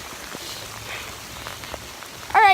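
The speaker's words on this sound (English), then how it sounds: "it is raining down so hard right now" Heavy rain hisses steadily with scattered drops, and a brief higher sound rises at the very end.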